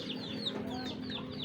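Backyard chickens cluck and chirp close by while pecking at scattered feed, a quick run of short calls over a steady low hum.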